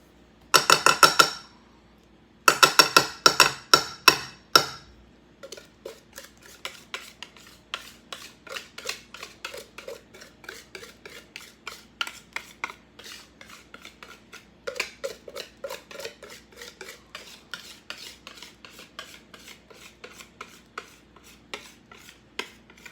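Cake batter for a pineapple cake poured and scraped into a baking pan, with a couple of loud bursts of rapid scraping followed by a long run of quieter, steady rhythmic scrapes and taps.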